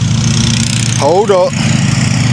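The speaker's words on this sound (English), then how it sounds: "them damn lawnmowers" Several lawn mowers running nearby make a steady, droning engine hum throughout, with a man's brief speech briefly rising over it.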